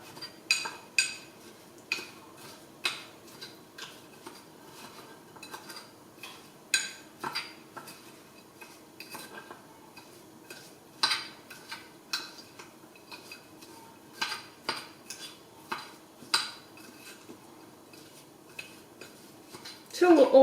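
Walnuts being mixed with sugar and butter in a bowl for a banana nut muffin crumble topping, a steady run of spoon clinks and scrapes against the bowl, close and rhythmic, with faint talk in places.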